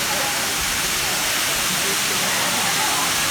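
Sedudo waterfall in Nganjuk, East Java, roaring as a steady broadband rush of falling water that fills the whole clip at close range, with no break or variation.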